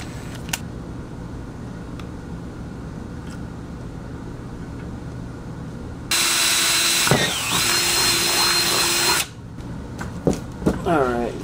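A power drill bores into a rear-mount radiator setup, a steady loud whine lasting about three seconds, then a short burst of winding down, with quiet room noise before it.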